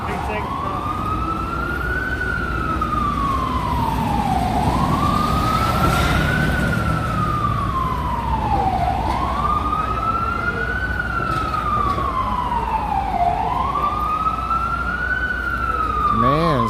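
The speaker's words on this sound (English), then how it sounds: "Sirens everywhere." A wailing NYPD siren rises and falls in long, repeating sweeps over constant loud street traffic noise in Times Square, New York City, with a second siren joining faintly at the end.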